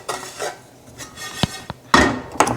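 Toasting food stirred in a hot pan, a few scattered scrapes and clinks of utensil against metal, close and fairly loud, with quiet gaps between strokes and no talk.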